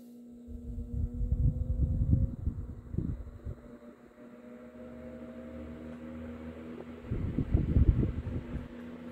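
A Westinghouse 12-inch oscillating desk fan runs on its low setting, a steady motor hum with a tonal drone beneath a soft airy whoosh that swells and fades as the head sweeps, loudest near the start and end.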